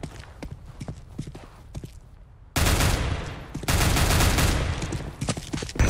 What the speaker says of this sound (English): I'm shooting at a dead body